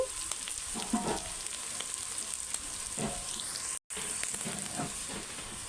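Onions and bitter gourd pieces fry in a pan for a bitter gourd curry, making a dense, continuous hiss and sizzle with occasional soft stirring scrapes, steady and close, broken by a brief dropout of silence.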